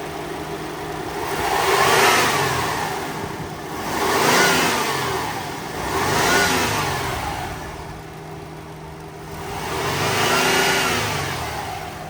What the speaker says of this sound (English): Good sounding motor.